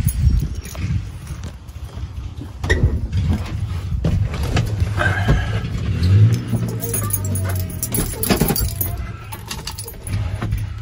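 A car engine with a big cam and no choke, just fitted with a repaired Davis Unified Ignition distributor, cranks and tries to start after weeks of sitting, with mechanical clatter, jangling and a barking dog in the background.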